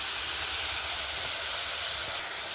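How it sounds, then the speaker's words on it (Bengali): Red chili sauce hitting a hot pan of mushrooms with soy sauce, a steady loud broadband sizzle that holds evenly throughout, close and without talk. "আর এখানে রেড চিলি সস দিয়ে দিচ্ছি আমি 2 চামচের মতো।"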